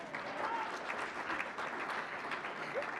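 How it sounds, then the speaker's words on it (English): Sustained applause from an audience at a university media arts and studies awards banquet, an even patter of many hands clapping at a moderate distance with faint voices mixed in. "I'm just making them clap for you a lot."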